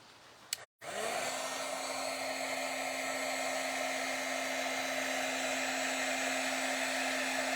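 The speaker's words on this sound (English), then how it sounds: "now we're going to get the embossing tool back out" An embossing heat tool clicks on and then blows hot air in a loud, steady whine-and-rush that continues without a break, close to the mic and with no talk.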